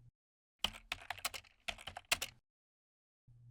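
A search box entry is typed on a computer keyboard as quick bursts of close, crisp key clicks in two short runs, with no talk over them.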